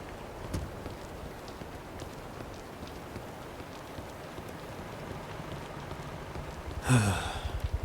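Soft, steady video game rainfall patters evenly with no voices, then a brief louder thud and rattle near the end.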